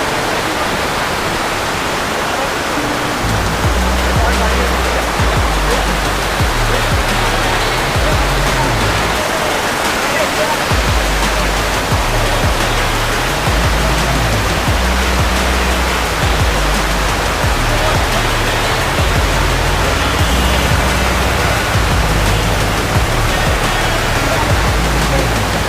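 A waterfall in Nainital roars as a constant broadband rush of water, loud and unbroken for over twenty seconds, with faint low tones beneath it.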